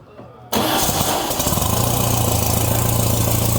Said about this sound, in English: It's either going to start or it's going to... Backfire.